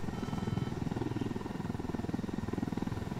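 Damaged helicopter in the video game Ghost Recon Wildlands, a steady loud rotor drone with a rapid rhythmic chop throughout, no voices.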